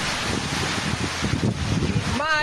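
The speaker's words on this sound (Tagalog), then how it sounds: "bumagsak ang lona dahil sa matinding ihip ng hangin" Typhoon wind roars steadily into the microphone at landfall in Casiguran, Aurora, Philippines, a dense rushing buffeting with low rumbles, continuous and loud throughout, with a brief mechanical whine near the end.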